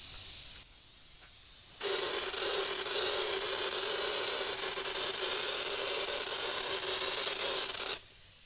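A drywall texture spray gun blasts knockdown texture onto a wall in a steady, loud hiss that runs for about six seconds, preceded by a few short bursts and cutting off cleanly at the end.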